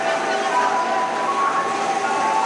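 Steady rumbling and humming of a commuter train, a continuous mechanical drone with a faint tonal whine, no breaks.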